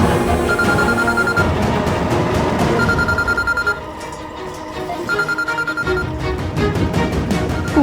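A telephone rings repeatedly in short bursts over loud background music, the ring pattern recurring several times.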